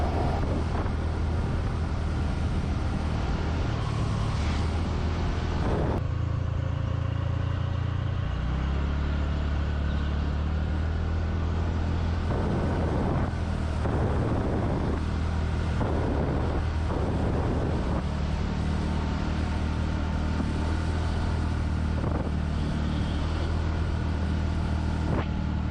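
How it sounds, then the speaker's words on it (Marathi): A car drives along a rainy, foggy road, its low engine and road rumble steady and close with buffeting wind noise throughout and no voices. "मस्त मजा येते गाडी चालवायला"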